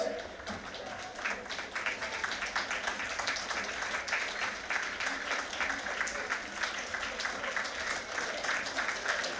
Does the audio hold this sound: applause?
yes